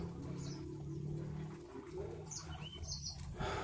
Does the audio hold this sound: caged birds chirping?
yes